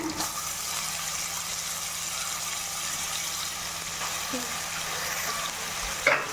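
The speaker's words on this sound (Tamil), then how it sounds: "இதை நல்லா இப்போ கிளறி விடணும்" Chicken biryani masala with ginger-garlic paste fries steadily in a pan, a continuous close hiss with faint stirring scrapes and a brief knock near the end.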